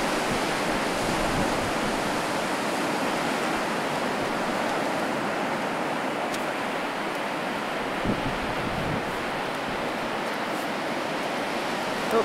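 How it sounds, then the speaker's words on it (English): Big ocean surf rolls and crashes in a continuous broad roar at a surfing spot, steady wash of waves with no talk. "Those are some big waves up there."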